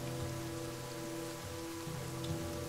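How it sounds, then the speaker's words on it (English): Steady rain pours down in the fantasy video game The Banner Saga 2, a dense, even hiss of drops spattering on a surface, continuous and close, with no talking. "The darkening sky lets loose its rain, and soon, fat drops of water turn the dirt path to sucking mud"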